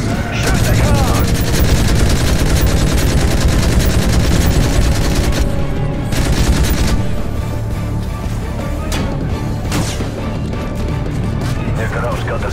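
Heavy gunfire in the Call of Duty Modern Warfare 3 video game on PC: loud, continuous automatic bursts and single shots with crashing impacts, under occasional in-game voices.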